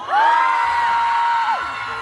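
Older festival audience members shouting in one sustained, rising cheer, a long held whoop from a crowd at an outdoor festival, loud and steady before tailing off.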